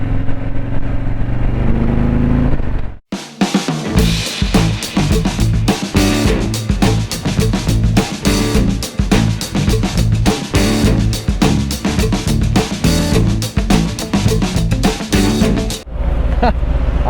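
Harley-Davidson Street Glide motorcycle, a 2019 model, riding through corners at speed, its engine droning loud and steady with rapid pulsing throughout after a brief dip near the start; wind rumble sits underneath.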